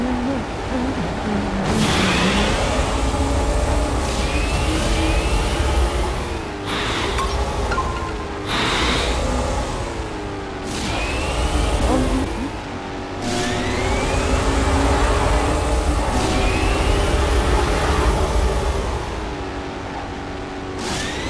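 Whining, high-pitched stock car engines in the game NASCAR Arcade Rush rise and fall in pitch as several cars pass, with repeated gear shifts and steady loud motor drone throughout.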